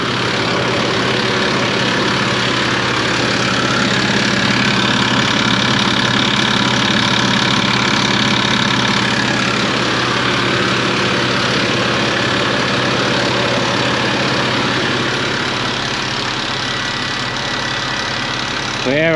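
Large riding lawn mower engine idling steadily and close, a constant rumbling drone with no change in revs throughout.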